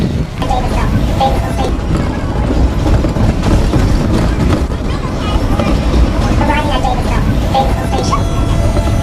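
A subway train rushes past at loud, close range, a continuous roaring rumble with metallic squeals and rattling, as a voice speaks faintly beneath it.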